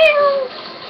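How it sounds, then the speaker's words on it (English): A cartoon-style cat meows once in the video game Techno Kitten Adventure, a short bright falling meow at the start that trails off into a softer tail. "It meowed, that was so cute!"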